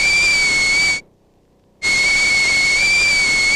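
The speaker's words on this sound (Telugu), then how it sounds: "ఏ పొయ్యి మీద కుక్కర్ ఏమైనా పెట్టావా?" Pressure cooker on a stove giving a loud, sustained high-pitched steam whistle that cuts off for under a second, then resumes just as strongly, with no voices over it.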